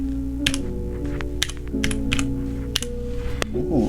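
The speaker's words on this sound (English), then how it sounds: "We got red switches, and let's check out the clickiness of this keyboard." Typing on a HyperX Alloy 60% keyboard with red switches: sharp, irregular keystroke clacks in quick bursts over steady background music, loud and close.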